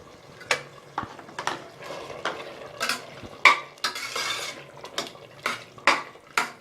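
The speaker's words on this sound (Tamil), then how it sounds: "நல்லா கலந்து விட்டுட்டு" Mutton biryani stirred in a pressure cooker after coriander and mint go in: a spoon scrapes and clanks against the metal pot in repeated close strokes, with a soft sizzle underneath.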